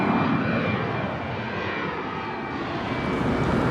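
An airplane passes overhead on a city walk in Jeju City, South Korea, a loud continuous engine roar filling the whole stretch with broad rumbling noise and no talk.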